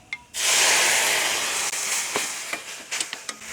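Sauces are poured into a hot pan of browned fried garlic and burst into a loud, sustained sizzling hiss that stays close and steady. A few small crackles and pops follow near the end.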